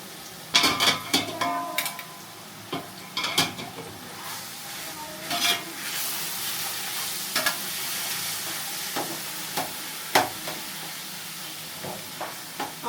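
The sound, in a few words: stirring bottle gourd halwa in pot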